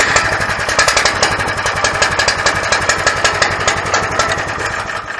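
A car engine idling just after its ignition was hooked up, loud and close. It makes a steady, rapid, slightly knocking chug that keeps running evenly throughout, with no talking.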